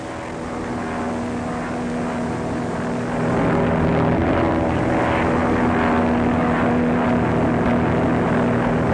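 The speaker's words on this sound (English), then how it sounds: "Patrol plane scouting." A propeller-driven patrol plane drones steadily overhead in a 1935 gangster film, a loud continuous engine hum that swells slightly louder midway as it passes.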